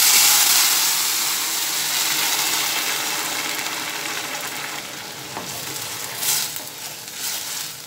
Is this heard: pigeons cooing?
no